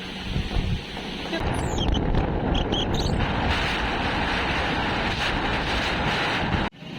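Strong wind buffets the microphone in a continuous roaring rush, loud and gusty throughout, with a brief drop near the end.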